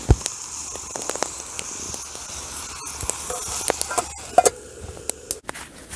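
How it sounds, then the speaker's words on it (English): Steak and vegetables sizzle in a pan over an outdoor campfire, a steady frying hiss with scattered pops and crackles from the fire, close and fairly loud. "Steak's getting cooked up nice."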